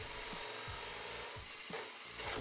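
A power drill whines steadily up close, the bit grinding into a taped desk or kitchen worktop to cut a hole for a pop-up power bar, with pitch dipping briefly a few times as it bites.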